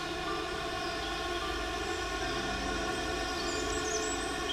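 A cartoon train sound effect for a journey: a steady, loud, horn-like tonal drone over a low rolling rumble, continuous throughout.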